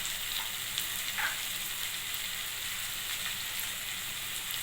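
Ground cumin and coriander powder sizzle steadily in a frying pan while being stirred for a chicken pasta, giving a close, even crackle with occasional soft scrapes.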